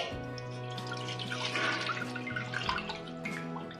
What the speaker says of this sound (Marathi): इथे मी एक भांडे घेतले आहे, त्यात आता आपण हा चीक टाकून घेऊ